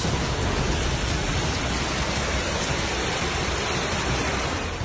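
Heavy rain pours during flooding in Murcia, Spain, a loud, dense and continuous hiss of downpour on surfaces with no break.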